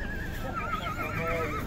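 A horse at a livestock market where young horses are being traded lets out a wavering whinny that rises and falls over a steady crowd murmur, fairly close and clear.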